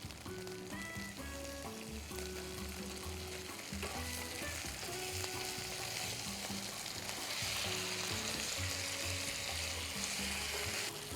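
Basil chicken stir-fried in a pan makes a loud, continuous sizzle with steady stirring and clatter, while a droning musical backdrop with sustained tones plays throughout and no one speaks.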